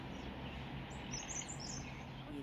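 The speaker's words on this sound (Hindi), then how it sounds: "चिड़िया कैसी बैठी हुई है पेड़ पे" A bird calls from a pine tree on a hillside in the mountains, giving a few faint, scattered chirps midway through over quiet outdoor background noise.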